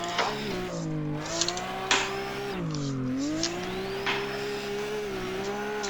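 A drift car roars through its last lap at a D1NZ event at Mercury Baypark, the engine howling steadily with rising and falling revs, sharp throttle blips and tire squeal throughout.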